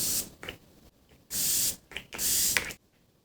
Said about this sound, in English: I feel like maybe I have to spray my sponge and then put it all over my face.